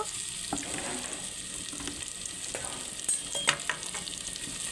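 Prawn paste fries in hot oil in a pan while being stirred, a steady close sizzle broken by several short scraping stirs, with no voices.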